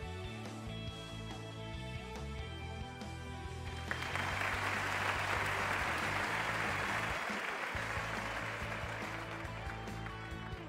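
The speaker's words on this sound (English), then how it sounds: "What a happy crowd." Studio crowd applause and cheering in the Wheel of Fortune game on PlayStation 3, a broad roar swelling in at about four seconds over steady game music and lasting to the end.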